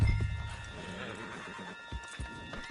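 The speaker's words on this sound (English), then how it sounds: "Put Strauss on the back of John's horse," A horse in the Red Dead Redemption 2 Western game gallops with rapid clip-clop hoofbeats and a whinny, heard close and loud alongside game music, with speech in the scene.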